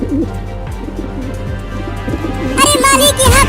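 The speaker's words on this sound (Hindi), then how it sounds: "वो सब कबूतर हमारे दाने को खाने के लिए नीचे उतर रहे हैं" Pigeons coo in soft repeated low calls near the ground as they come down to feed on scattered grain, with a brighter chirping burst rising near the end.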